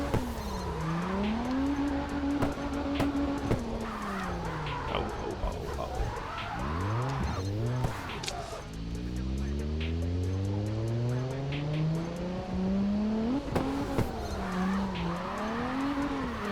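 A car drifting in a racing video game, its engine note rising and falling in sweeping revs as the tires squeal repeatedly through the slides, loud and continuous with no voices.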